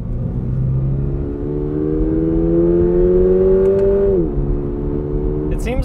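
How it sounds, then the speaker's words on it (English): A Toyota GR86 engine revving under acceleration, its piped-in cabin engine sound rising steadily in pitch as a smooth harmonic drone, then dropping at a shift and climbing again, loud and close. "the video game sensation that is mainly driven by the piped in engine sound"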